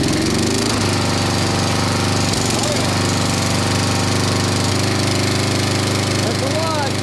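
A vintage 1990s Snapper riding mower's engine turns over and settles into a loud, steady running drone with a knocking, pulsing low rumble that carries through the whole stretch.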